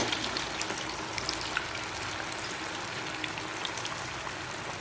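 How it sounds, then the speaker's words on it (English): Cabbage Manchurian balls sizzle in hot oil, a steady, dense crackle of frying with tiny pops scattered throughout, close and continuous with no talking. "I will allow it to fry."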